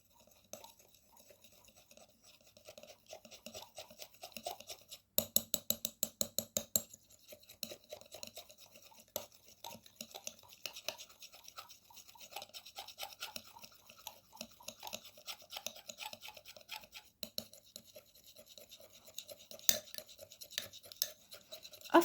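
White toothpaste and milk being stirred in a glass, with faint clinks and scraping throughout and a short run of rapid, louder taps partway through.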